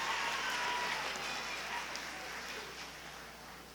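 Audience at a history day awards ceremony gives a round of applause, a steady dense patter of clapping from many hands that slowly fades, with no talking over it.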